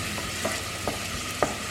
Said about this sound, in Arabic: كدير البصله كتشحر